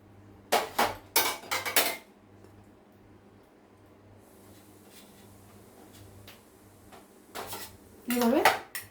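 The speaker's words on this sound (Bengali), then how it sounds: "দই দিয়ে এভাবে মাছের পিসগুলোকে টিফিন বক্সে ভরে নিচ্ছি।" Pieces of fish coated in yogurt are packed into a metal tiffin box, with sharp clinks and scrapes of metal in short bursts at the start and end and quiet handling between.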